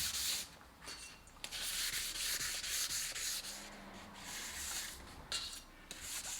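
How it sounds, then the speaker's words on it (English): Fine-grit sandpaper rubbing over a carbon fibre surface, a soft, airy hiss rising and falling in steady back-and-forth strokes, quiet and close. "Very, very finely taking out any of the previous sandpaper scratch marks."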